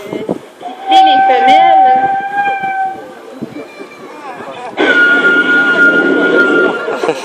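Beluga whale at an aquarium in Quebec whistling to females, sustained tonal whistles and squeaky calls, loud and close, with a busier burst of whistling near the end; people talk around it.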